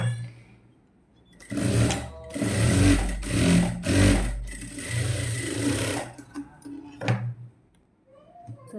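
A sewing machine stitches around a garment neckline in several close, whirring bursts with short pauses between runs, ending in a few quieter taps.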